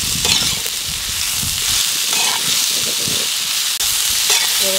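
Ridge gourd sautéed with onion and tomato sizzles steadily in a pan, with scraping stir strokes and brief clinks throughout; no one talks.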